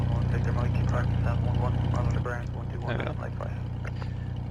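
Simulated piston engine of a Navion 205 light aircraft in X-Plane 11, a steady droning hum that dips slightly in level midway, with a person talking over it throughout.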